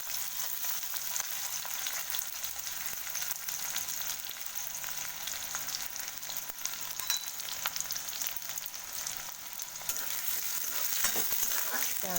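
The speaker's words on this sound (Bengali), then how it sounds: "পেঁয়াজটা ভালো করে ভেজে নেব" Sliced onions frying in hot oil in a pan that already holds cinnamon and cardamom, giving a continuous close sizzle with faint stirring scrapes and no voices.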